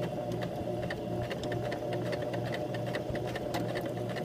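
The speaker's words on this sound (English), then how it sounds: "I'm going forward and back stitching." Sewing machine stitching forward and back along a fabric square, a steady close mechanical whir with fine rapid needle ticking running continuously and unbroken, with no talking.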